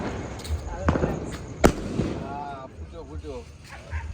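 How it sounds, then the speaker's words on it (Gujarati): A Diwali firecracker bursts outdoors with one sharp, loud bang amid people talking, with a smaller pop shortly before it. "દિવાળી આવી કરી એક ટેટો ફોડી દીધો"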